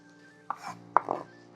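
A few sharp knife taps on a cutting board while chopping parsley, irregular chops close by, with a faint steady hum in the background.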